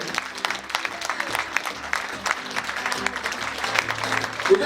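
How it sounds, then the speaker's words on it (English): Wedding guests give a round of applause during a groom's speech, an uneven patter of clapping with crowd murmur and low background music, moderately loud throughout. "Can we give a round of applause?"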